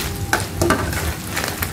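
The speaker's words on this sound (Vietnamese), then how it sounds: "Rồi sau đó thì mình sẽ lấy cái phần tôm ra nha, mình đảo đều đây nè." Shrimp with crisp, twice-fried shells being stirred in a hot pan for tamarind-sauce shrimp: sizzling frying hiss with a few sharp scraping stirs, close up, with no talking.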